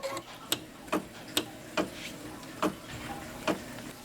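An embroidery machine sews a placement stitch for green fabric on a coaster, giving sharp, evenly spaced ticks about twice a second over a soft mechanical hum.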